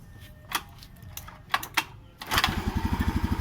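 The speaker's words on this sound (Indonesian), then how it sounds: "Oke, Mas Anam bisa dibantu starter. Kita lihat data motor saat nyala." A Honda Beat motorcycle's engine catches after scattered clicks and taps, then settles into a close, rapid, evenly pulsing idle putter, with popping noted from the exhaust.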